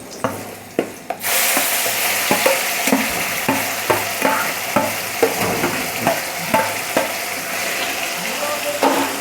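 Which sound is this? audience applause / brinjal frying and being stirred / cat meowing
brinjal frying and being stirred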